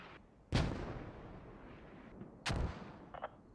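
Two heavy mortar blasts in the video game Squad, each a sharp booming thump with a rumbling tail, about two seconds apart, followed by a faint brief pop.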